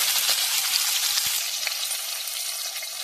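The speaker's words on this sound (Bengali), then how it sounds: "ঢেঁড়সটা বেশি ভাজবেন না বন্ধুরা, ভাজলে ঢেঁড়সের রংটা নষ্ট হয়ে যাবে।" Okra frying lightly in hot oil in a pan, with a steady, bright sizzle that stays close and fairly loud throughout and is heard alone.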